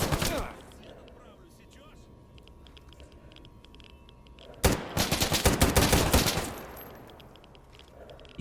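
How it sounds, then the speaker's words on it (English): Rapid bursts of large caliber gunfire in the video game Stalker Gamma, a short volley at the start, then a sustained loud string of shots later, with quiet ambient game sound between. "that is a large caliber weapon"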